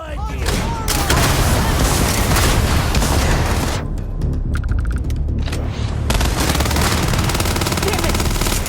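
Heavy gunfire in the video game Starfield, dense machine-gun rattle and booming shots, loud and continuous apart from a brief lull in the middle, with voices shouting over the fight.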